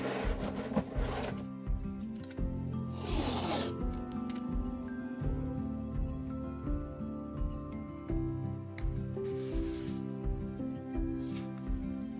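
Adhesive tape is pulled off the roll in a few short, raspy rips, close and fairly quiet, with music playing in the background.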